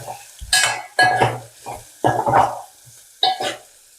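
Chikkudukaya (broad beans) sizzling in a pan as a spoon stirs them, several scraping strokes and clinks in bursts, close and moderately loud with no speech.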